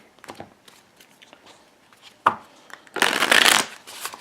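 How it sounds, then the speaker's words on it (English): A tarot deck being shuffled, with a loud dense riffle of cards near the end after a few softer taps and handling sounds. "So I'm going to use the Anna K Tarot."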